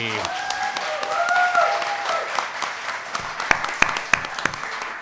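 A live audience at a grand finale contest event applauds a contestant, with a short tonal cue and voices at the start, then steady clapping that thins to a few scattered, sharp claps.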